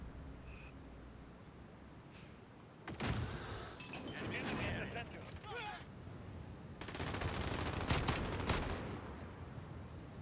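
Gunfire in Call of Duty: Modern Warfare (2019), a sustained burst and then another stretch of rapid shots, loud and close, with a voice talking over part of it.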